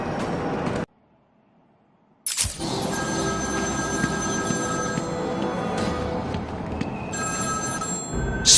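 In the Batman Arkham City video game, a telephone rings with a bright, repeating electronic trill that carries on for several seconds after a brief silent gap, fairly quiet and alone.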